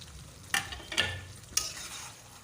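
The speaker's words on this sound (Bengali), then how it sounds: "আবারও ভালো করে নেড়ে নিচ্ছি" Mutton with chopped tomato and green chilies stirred in a hot pan, three sharp spoon clacks against the metal over a low frying sizzle, close up and brief, no talking.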